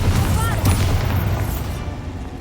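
Confringo blast spells explode in the Hogwarts Legacy video game, giving loud, rumbling bursts that fade over a couple of seconds amid busy game sound.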